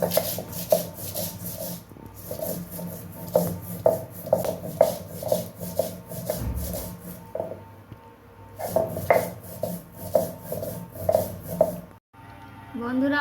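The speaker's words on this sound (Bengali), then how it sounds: "এদিকে আমি এই জিরে ধনে আর শুকনো লঙ্কা বেটে নিয়েছি" Cumin, coriander and dry chillies ground into a paste on a stone, a steady run of rhythmic rubbing and scraping strokes up close, pausing briefly midway and stopping near the end.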